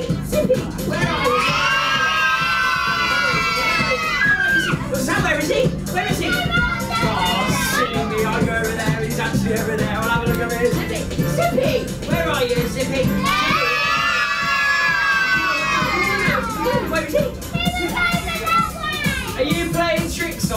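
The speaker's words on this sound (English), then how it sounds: "Boys and girls, if you see Zippy, will you shout and scream and let me know?" A live children's TV stage show at Cadbury World in Birmingham, where an audience of children shouts, screams and cheers loudly in two big bursts, with an adult voice talking between them over steady crowd noise.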